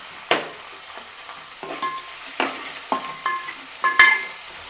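Banana flower vegetable frying and being stirred in a pan: spaced scrapes and clinks of a spatula against the metal over a quiet sizzle, each stroke distinct and fairly close.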